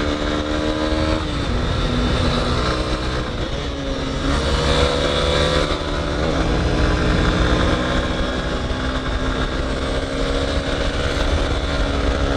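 A Yamaha R15 motorcycle riding fast, its engine a loud continuous roar that holds high through the run without pause, with no talk over it.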